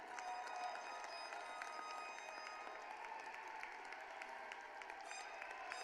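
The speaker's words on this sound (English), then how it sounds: "Welcome and a round of applause, standing ovation for them." A commencement crowd gives graduating medical students a standing ovation, a steady, distant roar of clapping and cheering that stays even throughout, faint and heard from afar.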